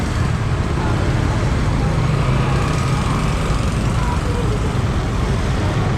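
Dense road traffic on EDSA, Metro Manila, heard from the roadside while walking: a steady, loud, broadband roar of cars, buses and trucks, with no clear break, and nothing stands out above the continuous wash of engines and tires.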